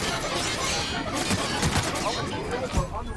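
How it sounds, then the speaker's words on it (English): A science gun fires in The Outer Worlds, a dense, crackling volley of rapid electronic blasts and bursts that stays loud and continuous, with game sound effects layered throughout. "Now, this is a pretty effective science gun."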